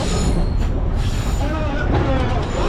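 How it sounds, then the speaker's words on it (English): A scenic tourist train on St Kitts rumbles steadily along its rails with a constant low roar and faint wheel squeal, loud and continuous throughout. "Bumpy train."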